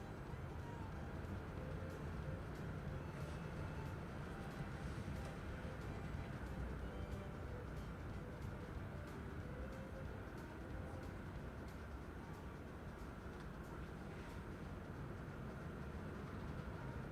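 A long freight train rumbles past steadily in Railway Empire on a Rocky Mountain mining route, a constant low rolling drone with faint clicks of the wheels, and someone talks over it.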